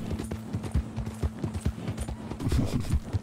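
Horse hooves clip-clop steadily across the ground in Red Dead Redemption 2, a brisk rhythmic beat of close, clear footfalls over a low steady game hum, with no one speaking.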